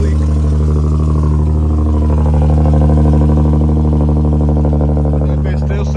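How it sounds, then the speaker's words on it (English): A tuned Infiniti G37 with an exhaust leak idles and revs loudly up close, its steady low engine rumble swelling slightly in the middle and carrying a clattery, raspy edge throughout. "I do have an exhaust leak."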